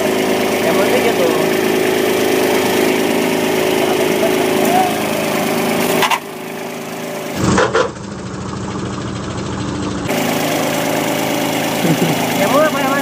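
A tractor engine runs steadily near the field's edge, a continuous mid-pitched drone that dips briefly partway through, with voices talking over it.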